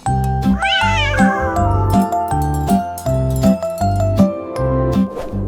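A cat meows in a sliding, drawn-out call near the start, then more mewing follows over a bouncy children's song with steady pulsing accompaniment.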